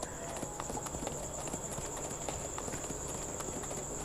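Horse hooves clip-clop at a steady trot while riding in the anime-style mobile battle royale game Eclipse Isle, a rhythmic series of close, moderate thuds over a constant high game-music tone.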